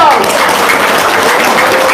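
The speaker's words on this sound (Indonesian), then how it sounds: "Tepuk tangan dong." A crowd claps loudly and continuously for a motivational speaker at a seminar, dense close applause mixed with voices filling the whole moment.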